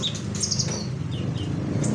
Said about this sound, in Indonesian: burung sudah rajin ya bahkan bisa dibilang gacor nih